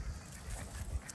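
Hen ducks squabble in a farmyard near chickens and guineas, with low, rough honking quacks repeating through the short stretch at moderate volume.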